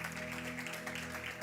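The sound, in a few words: church congregation applauding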